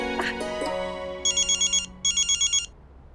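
Brief voice sounds at the start, then a phone ringtone plays two quick bursts of bright, warbling electronic tones, each a rapid pulsing trill.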